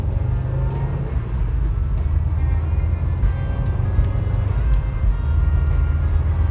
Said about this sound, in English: Love the sound of that turbo spool in the morning